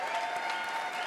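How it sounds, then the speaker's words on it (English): Crowd applauding at a town hall event, a brief, steady burst of many hands clapping, fairly loud, with a faint tone running beneath. "A big round of applause."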